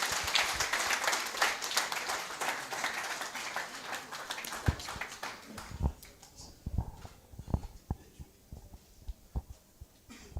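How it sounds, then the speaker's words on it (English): Audience clapping at a strategic thinking workshop and expo, a dense burst of many hands that thins out after about six seconds into scattered, isolated claps. "Let's give Prasia a big round of applause."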